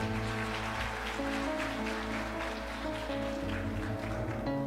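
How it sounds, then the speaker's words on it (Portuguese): Continuous crowd applause in a church service fills the space as a steady patter of clapping beneath sustained keyboard chords. "Salva de palmas para os personagens."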